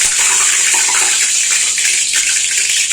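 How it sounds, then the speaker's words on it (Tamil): Heated oil is poured into onion vada dough, giving a steady, loud, close hiss that runs unbroken through the whole moment with no talking. "இதில் கொஞ்சம் எண்ணெய் எடுத்து நம்ம இதில் ஊற்றிக்கலாம்"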